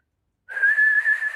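A person whistles a single steady sustained tone, clear and close, starting after a brief silence and holding with slight wavering, airy breath audible around the note.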